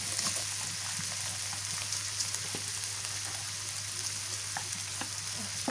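Garlic and dried red chillies fry in a pan with a steady, close sizzle, crackling continuously with small scattered pops throughout and no voices.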